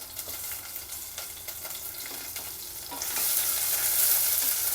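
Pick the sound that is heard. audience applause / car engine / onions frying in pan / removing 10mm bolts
onions frying in pan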